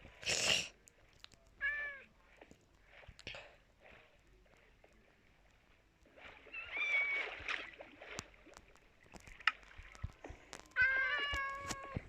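Several Minecraft cat meows come in short separate calls with pauses between them, some higher and drawn out, over a quiet background.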